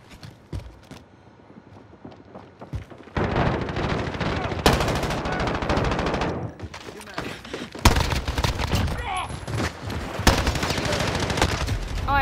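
Video game gunfire: after a quieter start with scattered shots, dense rapid automatic bursts roar for several seconds, broken by brief pauses, loud and close, with occasional voices underneath.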